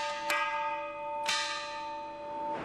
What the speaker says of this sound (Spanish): Esta era la campana de salida.